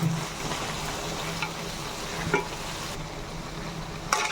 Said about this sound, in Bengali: ভাজা পেঁয়াজ আর চিংড়ি আমি দুটোকে এইবার ভালো করে নাড়িয়ে দিচ্ছি